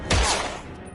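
A single loud gunshot blast in the video game Heavy Rain, a sharp close crack followed by a short booming decay with no voices.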